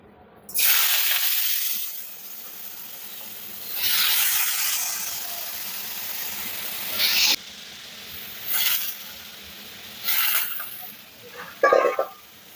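Sweet potato pieces drop into hot oil and sizzle loudly, a bright hissing fry that swells and fades in several bursts with faint clinks near the end.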